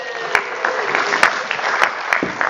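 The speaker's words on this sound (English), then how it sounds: "Let's give him a big round of applause" A small audience at a SharePoint conference session gives scattered applause, uneven clapping with a few sharp, distinct claps standing out over a thin background.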